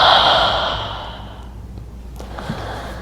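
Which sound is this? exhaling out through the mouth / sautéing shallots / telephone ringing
exhaling out through the mouth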